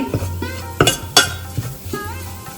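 Spices frying and being stirred in a pan for Maharashtrian katachi aamti, a steady close sizzle broken by a few sharp scrapes and clinks of the spoon against the metal pan, with no voices.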